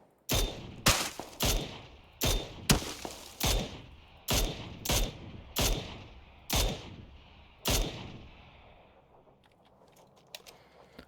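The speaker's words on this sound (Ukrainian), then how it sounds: "ти по машині мені стріляєш" Gunfire in the battle royale game PUBG, about a dozen sharp, loud shots in an irregular rhythm with short echoing tails, ending in quieter scattered clicks.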